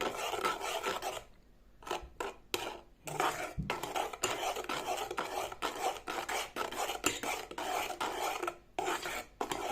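Steady scraping and rubbing of a spoon stirring a thick honey cake mixture in a bowl, continuous with brief pauses, close and fairly quiet.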